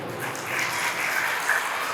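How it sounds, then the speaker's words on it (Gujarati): Crowd applause at a school event for Saint Mira School in Jetpur, a steady, moderately loud wash of clapping that swells slightly near the middle and end, with no voices over it. "જોરદાર તાળીઓ કરતા"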